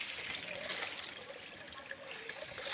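Faint, steady trickle of river water running into a container, a soft continuous splashing with no talking.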